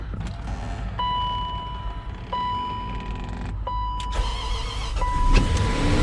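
A Range Rover engine with a blown head gasket cranks over and catches on its first try after the battery is hooked up, with steady motor noise and a recurring electric whine.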